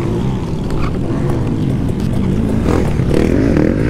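Stark Varg electric motocross bike riding off-road, a steady loud whirring drive with wind rush and rough ground noise, close up and continuous.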